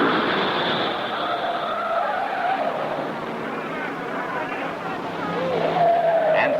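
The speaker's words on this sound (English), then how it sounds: "Seconds later, here's Chuck Stevenson spinning in a second leader card car." Race car spinning out at the Indianapolis 500, a steady engine roar with tire skid noise running throughout, heard with a crowd-like wash behind it and a rising squeal near the end.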